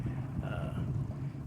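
Wind gusting across a lake by a small fishing boat, a continuous low rumble with buffeting noise against the microphone, steady and close.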